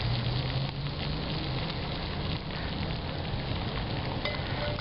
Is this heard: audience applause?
no